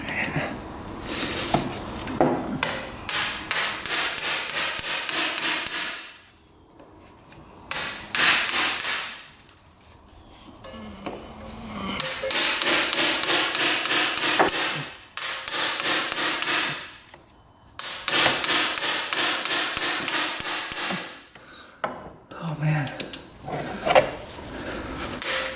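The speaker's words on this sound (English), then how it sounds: "I think we're gonna need the impact screwdriver for that one." A manual impact screwdriver is struck with a hammer to loosen bolts on a used quad, giving loud, close, repeated metallic blows in several long runs separated by quieter pauses.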